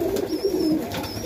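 A crested highflyer pigeon coos close by in a loft, a soft low rolling coo repeated briefly with faint background noise and no talking.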